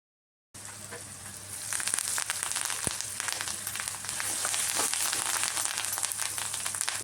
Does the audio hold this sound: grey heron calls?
no